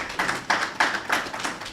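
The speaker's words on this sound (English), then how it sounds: "Another round of applause, if you don't mind." Scattered applause from a small audience at a reparations forum, a few hands clapping unevenly in loose bursts across the short stretch, moderately near and without voices.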